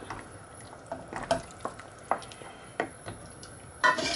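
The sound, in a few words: stirring pasta in a pan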